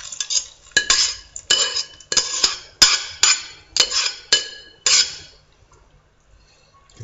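Horse meat with orange and lemon goes into a pan, bringing a run of sharp metallic scrapes and clanks in quick bursts, roughly seven strokes, loud and close. The last couple of seconds fall nearly silent, and no one speaks.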